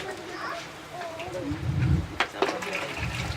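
Water is poured from above over a body during an Islamic funeral washing, a rushing, splashing pour that swells midway, with people talking alongside.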